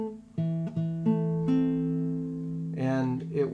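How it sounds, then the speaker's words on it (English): A fingerstyle acoustic guitar sounds a minor chord, a few notes plucked in quick succession at the start and then ringing together, with a brighter strum-like burst near the end; close and clear, with no talking. "Now to make a minor chord, we always lower the third note"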